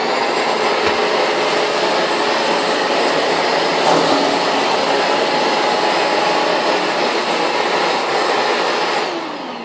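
A shop vac sucks up debris, with a loud, steady close roaring whoosh held for several seconds, a faint rattle of material passing through the hose, and a slight fade at the end.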